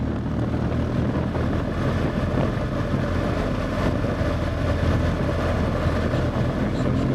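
A steady, loud motorcycle engine drones while riding, its low rumble mixed with rushing wind noise that barely changes.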